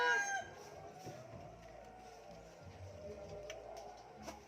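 A rooster crows briefly at the start, followed by soft scattered clucking from chickens nearby in a quiet outdoor setting.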